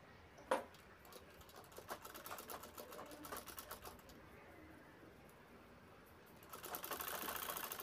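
A sewing machine stitches a zipper strip around the curved edge of a round sling bag panel, with brief bursts of rapid needle patter and short pauses, fairly quiet and close, with a faint thump near the start.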